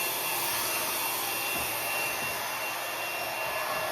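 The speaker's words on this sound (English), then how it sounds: "I don't know why I got under the blow dryer thing." A blow dryer runs with a steady, loud, broadband whooshing hiss that stays constant throughout with no talking.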